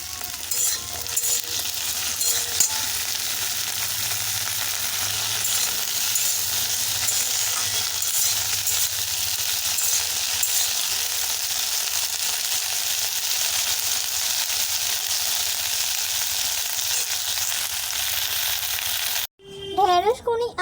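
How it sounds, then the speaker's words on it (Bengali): Sliced okra fries in hot oil for an onion and potato curry, a continuous close crackling sizzle that holds steady throughout, broken by a brief different sound at the very end. "এরপরে আমি ঢেঁড়সগুলো তেলের মধ্যে দিয়ে ভালো করে লাল লাল করে ভেজে"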